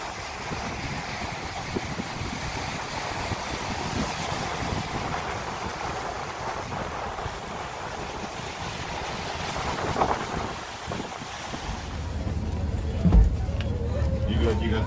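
Waves and wind at Kualoa Beach on North Oahu make a steady, close broadband roar of surf, with wind buffeting the microphone throughout and a thump near the end.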